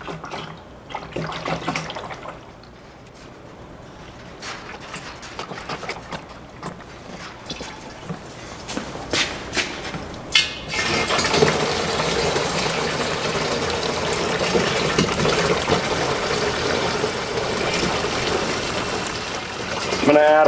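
Water poured into a coolant container, adding about 1.25 to 1.5 gallons to make a 50/50 mix for a Robinair CoolXChange coolant machine. After a quieter start, a steady, loud rushing pour fills the second half.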